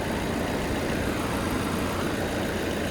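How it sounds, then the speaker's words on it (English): A 2021 Land Rover Defender's 2.0-liter engine idles with the hood open, a steady, even broadband hum without changes in pace, heard close and alone. "there's your little baby engine"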